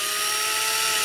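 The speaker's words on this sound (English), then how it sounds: "basically you're just drilling a clearance hole." A power drill boring a clearance hole for a side skirt clip on a Camaro 1LE, a steady high-pitched whine with harmonic tones held close and loud through the whole short stretch, no voices.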